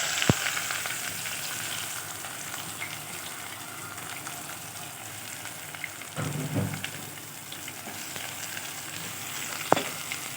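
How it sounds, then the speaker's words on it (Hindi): Thinly sliced onions and a bay leaf fry in oil in a pan, a continuous rain-like sizzle heard up close, with a brief stir partway through and a sharp clink near the end. "इसमें हम डाल देंगे 1 अदद तेज़पात और 2 अदद प्याज हैं"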